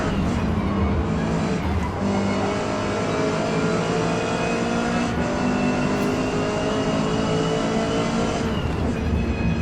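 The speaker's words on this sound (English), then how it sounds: "Coming into the turn, he presses his brakes really hard." A race car in Forza Motorsport holds a steady, loud engine drone with shifting pitch while braking into a turn, with faint tire noise underneath and no talking.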